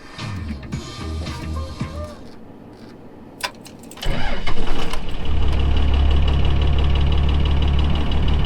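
A crew cab pickup truck's engine cranks and fires at about four seconds after a quiet stretch, then settles into a loud, steady low idle that continues to the end.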